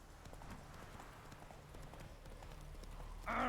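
The horse Roach trots in The Witcher 3 with rhythmic, soft clip-clop hoofbeats under faint game ambience. A louder burst of sound comes in at the very end.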